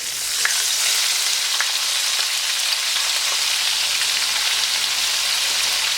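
Onions frying in hot oil with asafoetida, giving a loud, dense, even sizzle that crackles steadily close up without pause.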